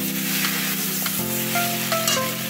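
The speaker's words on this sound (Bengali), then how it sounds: "ভাজা ভাজা হয়ে এসছে দেখুন সবজির সঙ্গে" Snake gourd and other vegetables, dusted with chili powder, sizzle in a pan for a shrimp curry, a steady close frying hiss broken by a few scraping stirs and clinks.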